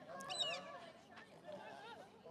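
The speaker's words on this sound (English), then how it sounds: "the seagulls are making a crap ton of noise up there" Seagulls calling from somewhere overhead near a nest, a few faint squawking cries mixed among quiet voices talking in the foreground.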